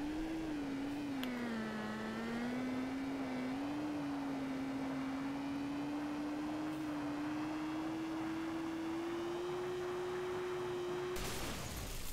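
A car spins its wheels at launch in a BeamNG.Drive drag race, a sustained whining engine tone that dips then climbs steadily for several seconds before cutting off abruptly, with no talk.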